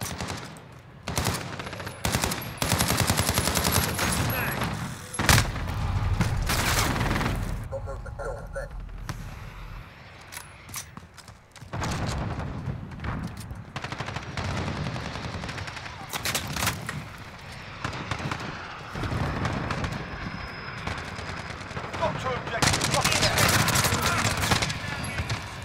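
Heavy gunfire in a multiplayer WWII shooter, with bursts of machine-gun rattle and single loud shots recurring throughout, briefly easing before resuming, while players talk over the action.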